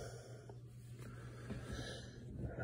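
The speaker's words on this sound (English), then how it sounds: "Just checking his breathing." A sleeping diabetic boy breathes heavily with soft snorting and wheezy breaths, close and quiet against a steady low hum, with no talk.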